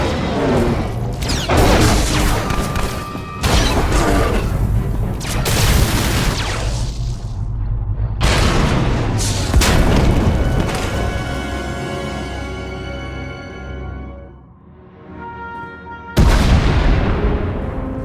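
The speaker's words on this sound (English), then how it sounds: "We heard explosions, the tunnel collapsed." Explosions in the Star Wars: The Old Republic video game, with heavy booming blasts and crashing debris that are loud and dense, swelling and fading in several large waves.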